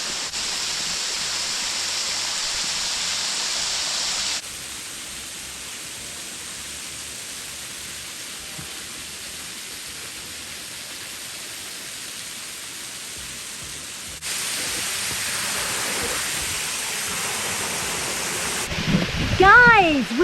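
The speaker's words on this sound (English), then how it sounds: "We made it to the waterfall." The waterfall on the Tioga Falls Nature Trail roars as a constant broadband rush, loud and close throughout, with a voice exclaiming over it near the end.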